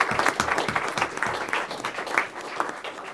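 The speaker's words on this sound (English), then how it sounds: "just give all of our honorees just a round of applause" Audience applause for honorees at a Moore County school board business meeting: a room of people clapping steadily at moderate loudness, individual claps standing out, with no talk over it.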